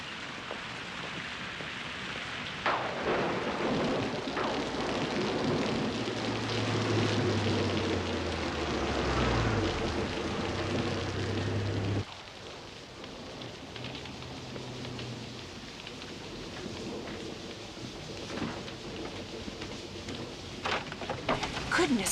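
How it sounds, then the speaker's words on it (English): Rain falls outside in a steady, even hiss that continues throughout. A soft low hum and faint occasional thumps sit underneath. "come in out of that rain"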